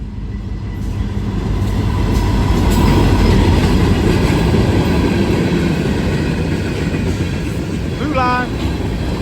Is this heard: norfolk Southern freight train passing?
yes